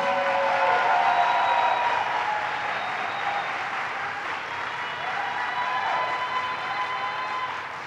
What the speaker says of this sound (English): Let's give terrific Tish a round of applause